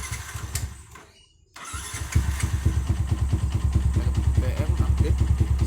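A carbureted Yamaha Vixion motorcycle is cranked by its starter, briefly quiets, then catches and settles into a close, steady, loud idle with a rapid even thumping beat.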